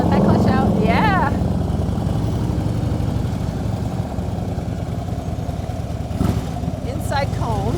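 Motorcycle engine note held under steady talk as the rider releases the clutch on a practice course with cones, a continuous mid-pitched drone running the whole time with a couple of brief rises.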